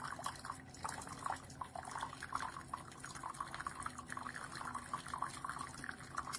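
A Keurig K-Mini single-serve coffee maker brews with a faint, steady trickle and gurgle of liquid, quiet and continuous, with soft pulsing drips and no voices.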